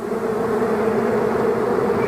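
A honeybee drone buzzes in flight, a steady, loud, low droning hum held close and unbroken throughout, with no voices over it.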